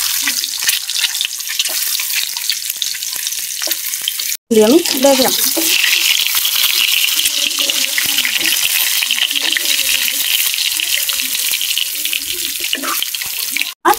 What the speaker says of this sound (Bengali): ডিমটি আমি আগে থেকে সিদ্ধ করে নিয়েছিলাম, এখন হালকাভাবে ভাজলাম।